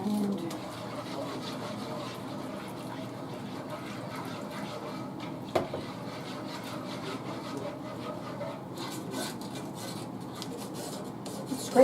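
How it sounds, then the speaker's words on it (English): A spoon scrapes around the sides of a pan of creamy herbed sauce simmering on medium heat, a steady rasping rub that carries on evenly throughout at close range, with a sharper knock partway through. "scraping the sides because it's got some stuff goodiness on the sides of it here"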